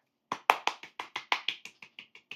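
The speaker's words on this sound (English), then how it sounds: "Give a round of applause to yourself." A child and others at home on Halloween clap briefly for themselves, about a dozen quick claps in a row, close and clear, fading slightly toward the end.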